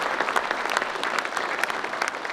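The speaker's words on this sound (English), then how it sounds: "give him a big round of applause" Dense applause from a town hall audience, steady and fairly close, a continuous wash of many hands clapping throughout with no talk over it.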